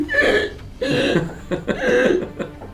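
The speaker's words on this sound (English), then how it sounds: "Can you burp on command?" A person burps on command, producing a double burp with a croaky, voiced quality, followed by further short throaty bursts, loud and close with no other sounds.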